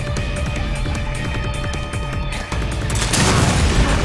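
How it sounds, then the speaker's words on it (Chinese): Molotov cocktail bursting in Resident Evil Revelations 2, a dense stretch of game combat noise and booms that swells into a loud crackling, roaring whoosh of fire near the end, with no voices heard. "好啦，我试下掉汽油弹先。"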